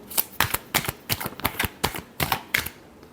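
A deck of tarot cards is shuffled by hand in a run of about eight crisp, rapid rustling bursts, close and clear, with no talk.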